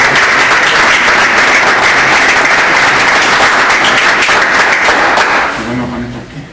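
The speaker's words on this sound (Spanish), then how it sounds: "vamos a darle un aplauso a Juan" A room full of people gives a loud, sustained round of applause for Juan at a chamber of commerce meeting, the dense clapping holding steady before tapering off near the end as talk resumes.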